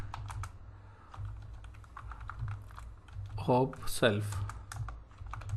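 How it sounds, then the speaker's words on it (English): Rapid clicking of a computer keyboard while text is typed into Notepad, steady bursts of keystrokes running under a man's nearby speech. "in the notepad we will write this heading"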